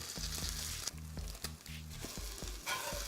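French toast made with purple yam sizzles in plenty of butter in a hot pan, a steady crackling fry broken by several sharp low clatters of the pan and utensil.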